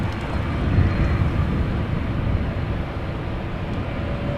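Embraer E2 jet at Amsterdam Schiphol Airport, a broad steady engine roar with heavy low rumble, moderately loud and distant, without voices.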